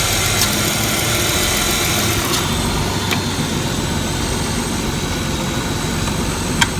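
A Chrysler 300 runs at a steady idle with its AC compressor clutch engaged and spinning, giving a constant engine hum and whir under the open hood, with no talking.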